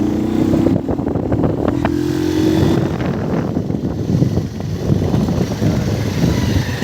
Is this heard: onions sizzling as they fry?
no